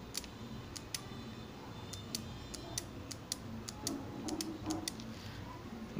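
A microwave oven component clicks as it closes a circuit on a battery, a series of faint, sharp ticks spaced irregularly over a quiet background hum.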